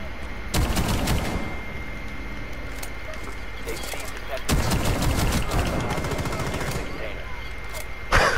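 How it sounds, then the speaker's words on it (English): Loud gunfire from Rainbow Six Siege gameplay, with heavy shotgun blasts and rapid bursts cutting through a dense wash of in-game noise, while a voice talks underneath. "It's a shotgun."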